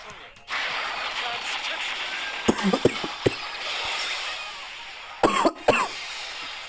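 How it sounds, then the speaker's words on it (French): A few sharp coughs break out in two clusters over a steady background hum and clicking, close to the microphone. "Pardon les gars, je tousse, désolé"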